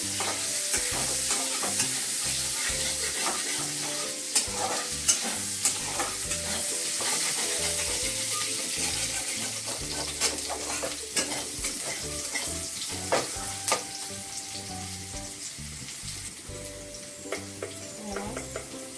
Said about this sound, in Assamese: ভাজিলাম এইটো